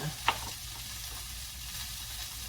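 Cabbage cooking in a pan with salt and pepper gives a soft, continuous sizzle after one brief clink at the start, heard up close at low volume.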